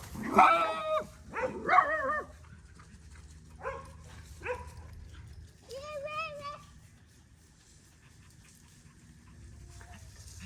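A dog barks a few times nearby outdoors, the bursts spaced out and fairly clear against a quiet background, with a person talking.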